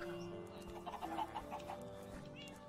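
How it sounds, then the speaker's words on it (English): Video game chickens cluck in a quick run of short, faint calls, with no talking over them. "That's why there's so many chickens everywhere."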